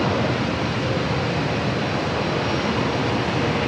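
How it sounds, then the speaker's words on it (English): A Japan Airlines Boeing 787 Dreamliner takes off on runway 27 at San Diego airport, its engines a loud, steady broadband roar with no gaps, heard from nearby. "back-to-back Dreamliner takeoffs"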